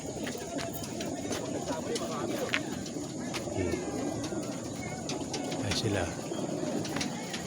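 Racing pigeons coo in a close, steady murmur from crates loaded in a truck before a release, with a few chirps and someone talking briefly over them.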